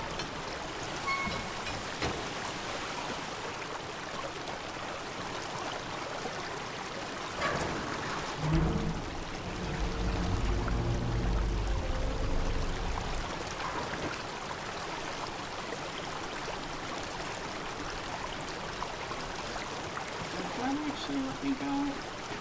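A water gate opens in the Obduction video game, sending water rushing and pouring, a low churning gush that builds midway and then settles into a steady trickle, with a voice talking over it.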